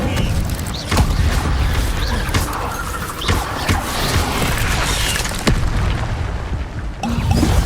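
An Incendio fire spell cast in the Hogwarts Legacy video game, heard as loud rushing flame bursts and booming impacts amid a continuous, dense game soundscape.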